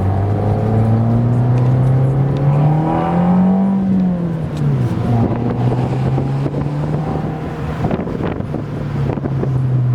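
A 2013 Fiat Abarth 500 Cabriolet engine hums and revs, the tone rising and falling smoothly over several seconds with wind buffeting the microphone, no voices.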